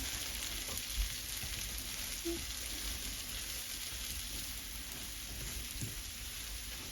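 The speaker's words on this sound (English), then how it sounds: "I'm going to cook this down in the butter" Cabbage and carrots for coleslaw cooking down in butter, giving a steady, moderate broadband sizzle with faint crackles over a continuous background hiss, no voices.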